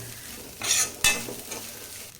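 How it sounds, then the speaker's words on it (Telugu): Spinach rice with chopped coriander being stirred in a hot pan, a soft sizzle under two loud scraping stirs close by, followed by quieter scrapes. "కొత్తిమీర వేసుకొని అంతా కలిసేటట్టు ఇలా కలుపుకోవాలి."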